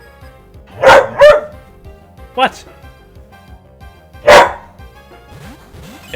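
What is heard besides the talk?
dog barking at the wall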